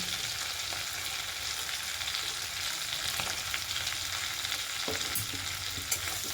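Prawns and chopped onion fry in oil for an elephant foot yam and prawn dish, giving a dense, continuous sizzle up close. Occasional scrapes and clicks come from stirring.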